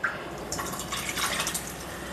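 Water pours and splashes briefly into a cooking pot of green chilli sambar, a soft gurgling trickle close by with faint drips.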